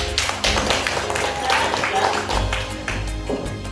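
Classroom clapping for a pupil, a burst of many small hands patting in a quick uneven rhythm, close and fairly loud with voices mixed in.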